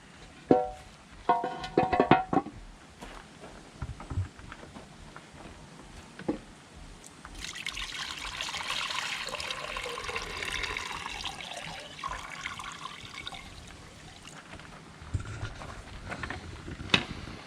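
Water splashes and pours steadily into a repaired, cracked oil pan of a 1955 Chevy with a 4.8L LS engine for several seconds, a hissing gush midway after a few scattered clinks and drips.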